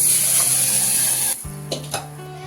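Cooked taro leaves pour into a hot spice tempering and hit with a loud, hissing sizzle that cuts off abruptly, followed by a few quieter stirring clinks and scrapes.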